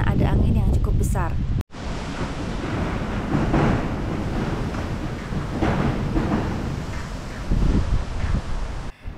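Loud, steady wind roars and buffets the microphone at an igloo tent glamping site in South Bandung, with a brief dropout near the start and gusty surges later on.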